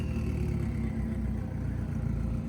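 Lamborghini engine running at a car show, a steady deep rumbling idle that stays loud and continuous throughout with no pauses.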